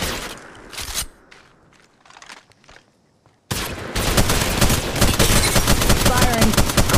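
Gunfire in the mobile shooter Apex Legends Mobile: a sparse opening with a few isolated shots and quiet gaps, then a sudden loud burst of sustained rapid automatic fire that continues to the end.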